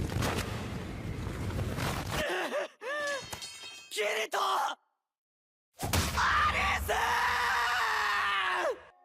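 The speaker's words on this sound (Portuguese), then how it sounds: "esse grito do Eugeo foi realmente desesperador" The anime character Eugeo screams in despair, breaking into several anguished cries with short gaps and a silent pause before a long, loud final wail over a dramatic backdrop.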